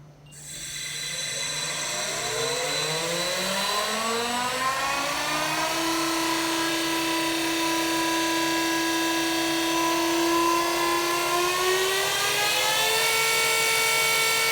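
A blown, alcohol-fuelled racing engine runs on the dyno while its fuel system is mapped, its whining tone sweeping steadily upward and then holding high and loud, with no voices.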